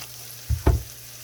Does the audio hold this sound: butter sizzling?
yes